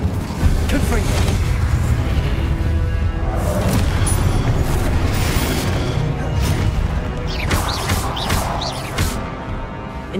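Confringo, an explosive fire spell in the Hogwarts Legacy video game, bursts with booming blasts and crashing impacts over a dense, continuous wash of loud game effects, with a voice calling out amid the noise.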